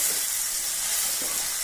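Bottle gourd koftas sizzling in a kadhai as they are mixed, a steady close bright hiss of frying with a couple of soft stirring touches over a brief moment.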